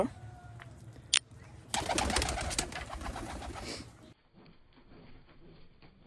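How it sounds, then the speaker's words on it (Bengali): A family of kept pigeons coos softly under a cloudy sky, with a brief burst of fluttering or rustling midway before the sound drops to quiet background noise. "এই হচ্ছে আমার ফুল ফ্যামিলি কবুতর"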